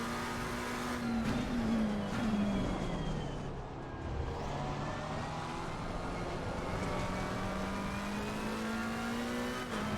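A McLaren 720S GT3 race car in Assetto Corsa Competizione drifts through a corner, its engine droning steadily at high revs with shifting pitch, loud and continuous throughout.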